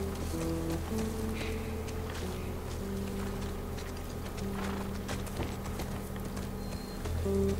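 A horse's hooves clip-clop at a steady walking rhythm while being ridden in The Last of Us Part II, close and clear over soft ambient game sounds and light rustling.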